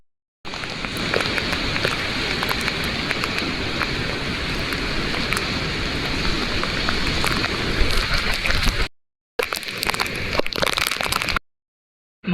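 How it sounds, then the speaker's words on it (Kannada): Heavy rain pours down steadily as a dense, loud hiss that runs unbroken for about nine seconds, then stops briefly and returns for a shorter burst. No voices are heard over it. "ಮಳೆ ಜೋರಾಗ್ತಾ ಹೋಯಿತು."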